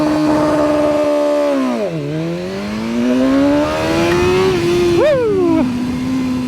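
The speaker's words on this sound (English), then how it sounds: "Launch control, and go." A BMW M1000R motorcycle accelerates hard from a launch-control start. The loud engine drops briefly as the revs settle, then climbs steadily, with a sharp shift blip near the end before the pitch levels off.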